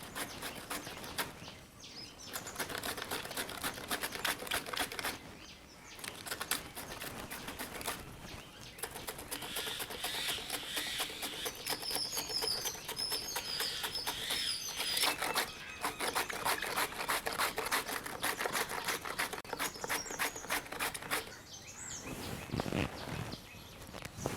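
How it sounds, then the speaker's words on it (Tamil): Cabbage is finely sliced on a handheld vegetable slicer, giving rapid rhythmic rasping strokes in continuous bursts separated by short pauses, close and fairly loud. "இப்போ நம்ம காய் சீவரத்தில் நம்ம சீவிக்கலாம்."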